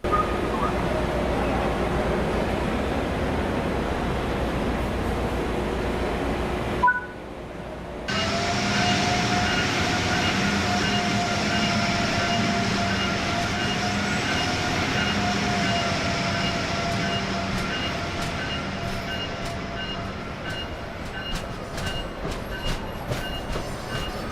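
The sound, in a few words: Amtrak Acela train doors closing and train running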